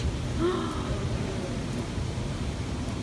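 Steady wash of rain noise, fairly constant and close, with no talking over it.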